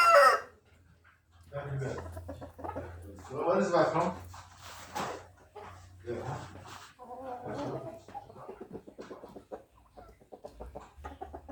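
Eight roosters being fed corn crow and cluck close by, with repeated raspy calls rising and falling over a few seconds.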